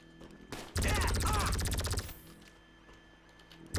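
Rapid automatic gunfire from a gun in a video game, a fast, loud burst of closely spaced shots lasting over a second, followed by quieter game ambience.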